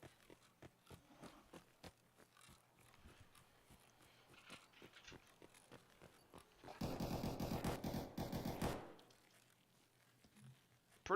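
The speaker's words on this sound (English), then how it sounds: "Just heard a lot of gunshots." Gunfire in the Escape From Tarkov video game rattles off in the distance as a run of muffled shots, apparently from inside a building. It swells into a dense, louder burst near the middle, then falls away over a low background.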